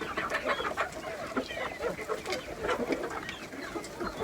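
A flock of farmyard chickens and roosters clucks continuously nearby, a busy overlapping layer of short clucks and calls with no speech.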